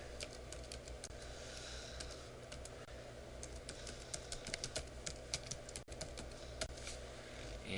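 Continuous clatter of computer keyboard typing as a diagnosis is entered into eye surgery scheduling software, rapid irregular keystrokes close up and steady throughout, with no voices.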